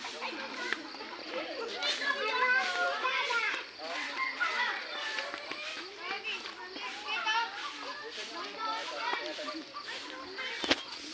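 Children play outdoors during a hike, their chatter and shouts overlapping continuously at close to mid distance, with a sharp knock near the end.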